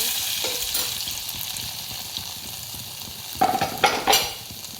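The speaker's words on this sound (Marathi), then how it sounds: "आता आपण ह्याच्यामध्ये लसूण घालून घेऊया लसूण थोडं लाल लावून दिलं" Garlic fries in hot oil in a pan with a continuous crackling sizzle, then a few louder clinks and scrapes of a spoon stirring near the end.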